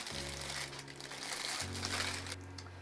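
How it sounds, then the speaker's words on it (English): Plastic Dollar Tree packages of Easter egg picks crinkle and crackle as they are opened, a steady rustling close by over a low background hum, with a brief louder burst of crinkling near the end. "let me go ahead and open up these packages and cut the sticks off"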